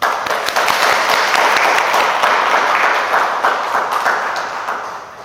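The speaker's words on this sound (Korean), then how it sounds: "박수 한번 쳐주시다." A church congregation applauds a first-time reader after the Scripture reading, with a full, sustained round of clapping that holds steady, then gradually fades toward the end.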